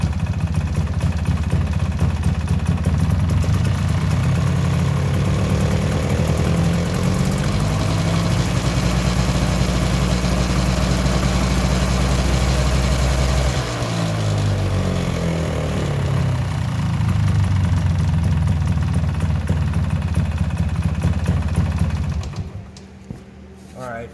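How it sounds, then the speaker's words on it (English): A Polaris ATV with a battery that is not charging runs steadily near at hand, its engine droning and rising in pitch for a while before settling back, while a person talks over it. "we'll rev the engine up"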